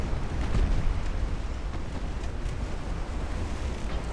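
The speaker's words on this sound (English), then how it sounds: "Boom! Beautiful hit." Deep rumbling blast of a shell striking a warship in Ultimate Admiral: Dreadnoughts, a low boom that rolls on as a dull roar under a washy, ocean-like background.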